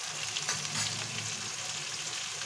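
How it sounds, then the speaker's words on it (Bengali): Spices with salt, turmeric and chili powder frying for biryani give a steady, even hiss and crackle in the pan, continuous and close with no voices. "মশলাগুলো সুন্দর করে একটু কষিয়ে নেব"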